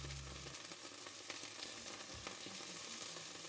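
Liquid hitting a hot pan of browned meat to deglaze it, a bright, steady sizzle with a brief low hum at the start and small clinks of stirring, close and alone.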